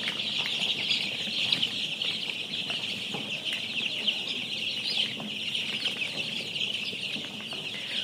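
A brooding shed full of CPF3 tiger-breed chicks gives off a constant chorus of high peeping and clucking, many birds overlapping at once, steady and moderately close with no talking.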